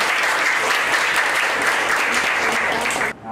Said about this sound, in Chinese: 那我们掌声欢迎